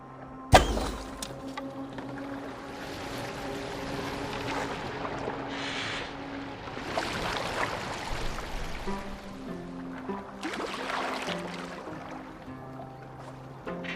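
Wooden boat moving across water in Assassin's Creed Valhalla, with sloshing water and creaking hull sounds beneath steady low background music, a sharp thunk near the start, and brief bursts of louder splashing.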